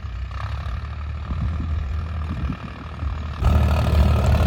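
A Farmtrac 60 tractor fitted with a 55-model silencer runs close by with a low, steady diesel rumble that grows louder and heavier near the end.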